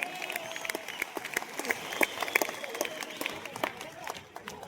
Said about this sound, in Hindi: एक बार अपने आप के लिए जोरदार ताली।